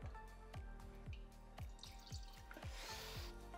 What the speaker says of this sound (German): So, dann kippt man hier Wasser rein.